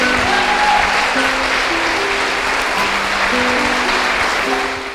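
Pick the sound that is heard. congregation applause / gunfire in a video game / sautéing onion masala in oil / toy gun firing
congregation applause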